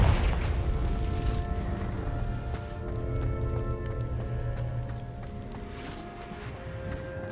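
A Confringo fire spell detonates in Hogwarts Legacy, a loud booming blast that rumbles and crackles on for several seconds over steady game music, slowly fading.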